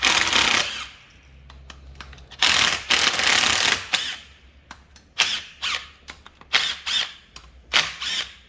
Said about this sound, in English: You want to just crack them first with a ratchet or breaker bar